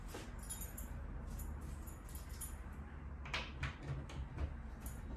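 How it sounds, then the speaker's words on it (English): Cupboard doors on an Anglo Indian campaign secretaire are opened, giving faint wooden clicks and soft knocks, one near the start and a cluster of brighter clacks toward the end, in a quiet room. "So we open up the cupboard doors."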